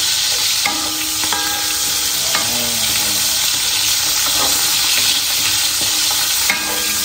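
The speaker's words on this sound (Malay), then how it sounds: "goreng sedikit udang kita terlebih dahulu" Steady loud sizzling of shrimp frying in a hot pan, with occasional clinks and scrapes of stirring throughout.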